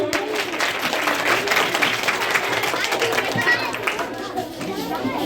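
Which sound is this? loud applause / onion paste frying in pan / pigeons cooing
loud applause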